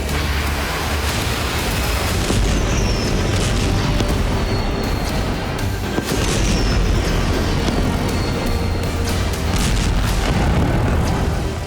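A Russian ICBM warhead strike on a business complex and infrastructure in Dnipro sounds like a constant loud, dense roar of blast rumble and rushing noise that fills the whole stretch without a break.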